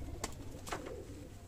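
A breeder pair of slate pigeons gives a soft, brief coo, close by and faint over a low background hum.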